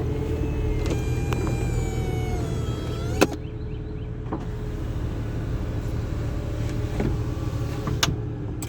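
A 2003 C2's convertible top runs through its cycle from inside the car, a steady electric motor whine with rising tonal sweeps, a sharp mechanical clunk about midway and another latch thud near the end, all over a low interior rumble.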